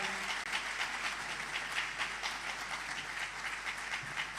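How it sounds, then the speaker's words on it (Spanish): Church congregation applauding during a special service welcoming visiting missionaries from Belgium, a steady, dense wash of clapping filling the room for several seconds with no talk over it. "Si podemos simplemente dar un fuerte aplauso a ellas, son de Bélgica."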